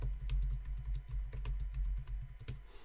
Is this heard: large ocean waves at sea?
no